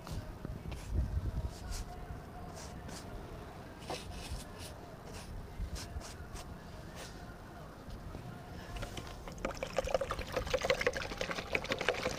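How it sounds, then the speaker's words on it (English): A paintbrush is rinsed hard in water during outdoor painting. Close, quick sloshing and trickling splashes grow louder and busier toward the end. "I don't have patience to rinse brushes, so I do it with all my might."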